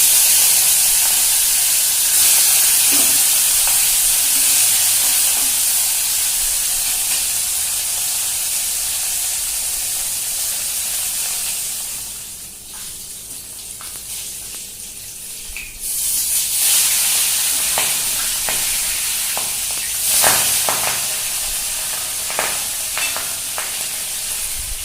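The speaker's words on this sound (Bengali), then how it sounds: "এবার আমি বাকি 2টো মাছও এইভাবে কড়া করে লাল লাল করে ভেজে নেব।" Katla fish pieces deep frying in hot oil in a pan, a loud, steady hiss and crackle that dips briefly midway before picking up again, with occasional sharp spatters and utensil taps.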